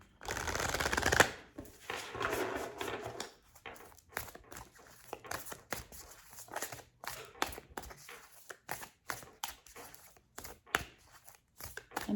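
Oracle cards are shuffled by hand in repeated bursts of soft riffling and flicking, close and fairly quiet, with short pauses between bursts and a brief louder rustle near the start.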